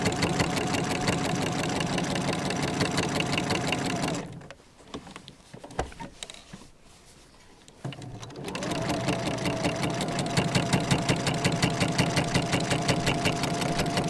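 A sewing machine stitches quilting lines through an advent calendar panel, running loud and steady, then pausing for about four seconds of quieter handling before the fast, even whirring resumes.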